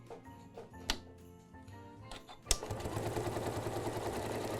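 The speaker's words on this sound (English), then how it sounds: "Now we're ready to stitch." A domestic sewing machine stitches a fabric tray cloth, starting with a few separate clicks and knocks, then running into a steady, fast mechanical whir close by.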